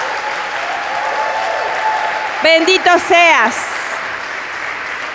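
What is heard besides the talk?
congregation applauding in church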